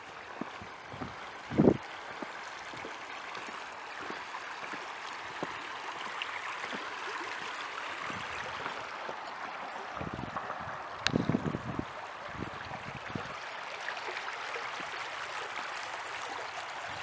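A small stream flows under a wooden footbridge on a state park trail, giving a soft, steady rushing hiss, faint and continuous, with a few light bumps and knocks.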